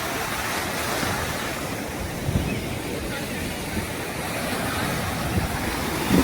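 Sea waves break continuously on Devbag beach in a broad, steady wash of surf, with wind buffeting the microphone and faint voices mixed into the roar.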